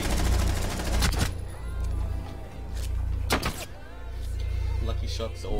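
Video game gunfire: a few sharp, loud shots fire in quick bursts over continuous game ambience and a talking voice.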